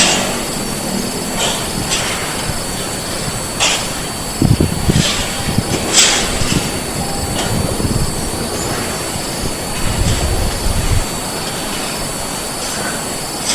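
A Speedybee Mario Fold 8 FPV drone on its maiden flight in Bali hovers and maneuvers, giving a steady whining motor drone with wind rumble and occasional louder surges, with no talking.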